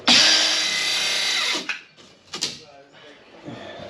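A power saw with its blade set really low cuts through camper van ceiling material in one loud, steady burst of about a second and a half, followed by quieter clatter and handling sounds.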